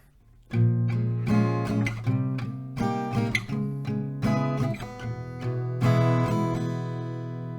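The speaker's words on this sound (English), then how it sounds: "together we sound like this" An acoustic guitar strums a chord progression up close, with ringing chords and sharp strokes that change every second or so.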